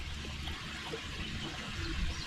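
Water pours into a Miracle-Gro spray feeder bottle, a soft continuous trickle and splash with some gurgling, fairly faint and heard alone.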